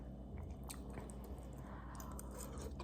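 Someone chewing oxtail mac and cheese with a crunchy baked top, faint close mouth sounds of biting and soft crunching over a steady background hiss, no talking.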